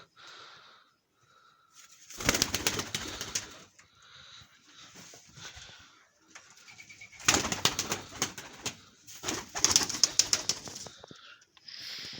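Yellow-marbled Baku pigeons coo softly while bursts of wing flapping and rustling rise and fall, close by, with no talking.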